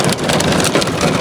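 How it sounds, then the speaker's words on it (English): A loud, dense roar of heavy rain and hail pelting a car in a park near Rijal Alma, Abha, with close, rough drumming on the vehicle and no talk. "and this hailstorm started"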